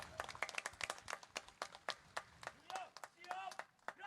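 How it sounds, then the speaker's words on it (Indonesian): Scattered hand clapping from a crowd at an outdoor Agricultural Quarantine Day ceremony, sharp irregular claps close and mid-distance, with some voices and brief tones mixed in. "Tepuk tangan untuk kita semua"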